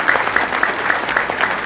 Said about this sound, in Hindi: मैं चाहूंगा उनके लिए जोरदार ताली आप सबकी तरफ से देना चाहिए